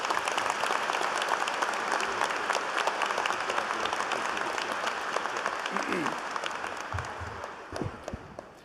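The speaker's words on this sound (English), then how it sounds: "let's have a round of applause for everybody amongst us" Sustained applause from a large audience at a university undergraduate graduation ceremony, a dense steady wash of clapping that thins out toward the end.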